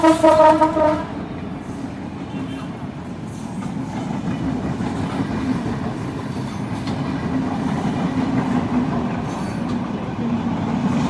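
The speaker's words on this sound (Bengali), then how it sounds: "ট্রেন গেল তার জন্য সাউন্ডটা বিকট হতে পারে" A train rumbles past close by, a loud sustained roar of wheels and rattling cars after a brief horn-like tone at the start.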